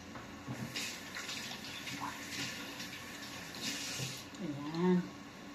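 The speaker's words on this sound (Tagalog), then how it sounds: "Hugas lang po ako kamay." Running tap water splashing over hands at a kitchen sink, a steady close wash with brief louder splashes toward the end, while lunch with lechon meat is being prepared.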